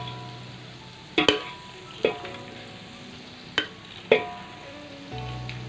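Boiled rice is stirred into hot oil in a pan for chicken fried rice, a soft steady sizzle broken by several sharp scraping clatters of a spatula against the pan.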